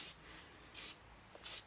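CRC battery terminal protector sprayed from an aerosol can onto battery terminals: three short, sharp hissing bursts with brief pauses between, close and distinct, no talking.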